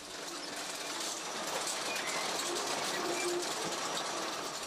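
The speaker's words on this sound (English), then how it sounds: "a high-tech machine which carves its way through the earth" A high-tech tunnelling machine carves through rock in an Australian desert opal mine, making a dense, steady mechanical roar with faint rattling and grinding that goes on without a break.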